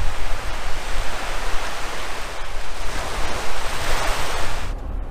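Strong outdoor wind, around fifteen miles an hour on a cool day, roars loud and broadband against the microphone, a dense continuous buffeting rush that cuts off abruptly at the end.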